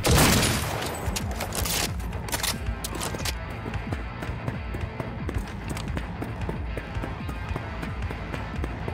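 Dense, continuous gunfire crackles through a Cyberpunk 2077 firefight, opening with a loud burst and then sustained rapid volleys and scattered impacts for the whole stretch.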